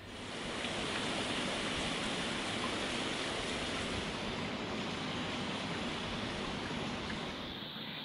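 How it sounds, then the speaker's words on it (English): Steady rain drums on a roof in a calm rural setting, a constant even hiss of moderate loudness that fades in at the start and holds without pause, with no talking. "Can you hear the rain hitting the roof here?"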